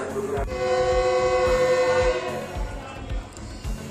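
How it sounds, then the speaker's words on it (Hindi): A Pakistan Railways Millat Express train stands at a station platform, with a loud sustained horn-like tone over the rumble of the train and a regular low thumping, close and continuous for the whole span. "18 डाउन मिल्लत एक्सप्रेस प्लेटफॉर्म नंबर 1 पर तैयार है"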